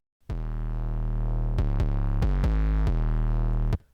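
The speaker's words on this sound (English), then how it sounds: "So the 808 pattern is going to sound like this." A deep, booming 808 bass line made in BandLab plays alone, sustained tones shifting pitch in a sliding pattern with a few short clicks between notes.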